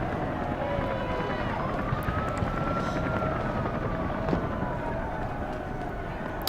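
A helicopter in the video game Deus Ex: Human Revolution passes by, its rotor drone swelling and fading over several seconds beneath a game soundtrack and someone talking.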